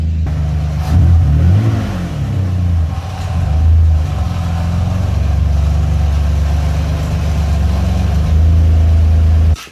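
A Nissan 350Z rolls into a garage, its engine idling low and steady with a couple of gentle revs as it creeps forward, then cuts off abruptly at the end; no voices.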